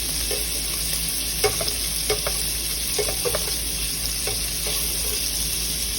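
Sausage sizzles steadily in a hot pan for a spicy Cajun shrimp and sausage Alfredo, with scattered clicks and scrapes from stirring over a constant close fry and no talking.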